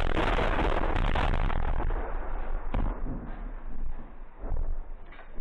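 Loud, continuous rumbling barrage of incoming 100 mm shell explosions during a mechanized combat assault, dense overlapping booms and sharp bursts filling the whole stretch with no pauses.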